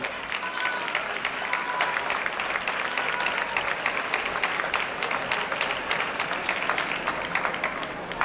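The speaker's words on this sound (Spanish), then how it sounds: "Un fuerte aplauso para él." A carnival audience at a local and children's parade claps for the year's winner, sustained dense applause with scattered crowd noise, steady and close for the whole stretch.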